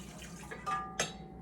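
Hot water pours into a mixer bowl for homemade copycat Pizza Hut breadsticks, a soft close splashing stream with two brief gushes near the end, no talking.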